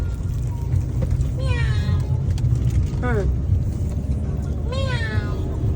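A cat meows three times, each cry rising and falling, over a steady low engine rumble inside a vehicle.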